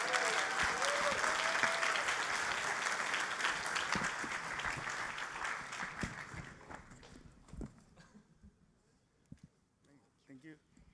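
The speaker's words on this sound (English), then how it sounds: "Let me welcome on the stage with grand applause, Mr. Takeshi Fukushima from NTT Communications" Applause from a conference audience at a Zabbix Summit welcomes a speaker on stage: dense, loud clapping that gradually thins and fades over several seconds, ending in sparse scattered claps.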